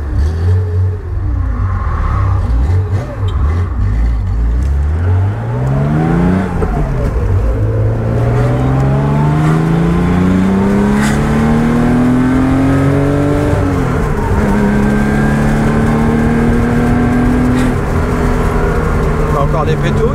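A car engine just fitted with a 123 electronic ignition revs up and down repeatedly, loud and close, climbing and falling in pitch with some roughness, while someone talks over it.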